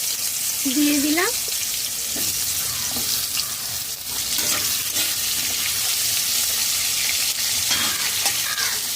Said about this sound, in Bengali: মুলো উল্টে পাল্টে চার মিনিট ভেজে নিয়েছি